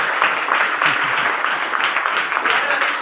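An audience claps steadily at a gathering held at a study centre in Sarnobatwadi, Kolhapur, applauding the speaker's wife. The applause is dense and continuous throughout, with faint voices mixed in.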